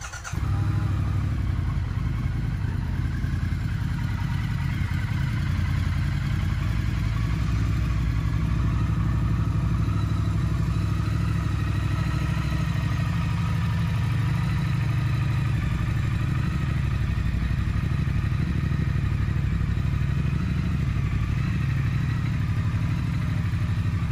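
A 2016 Triumph Thruxton R motorcycle starts with a sharp catch, then settles into a steady, close, even idle that runs on alone.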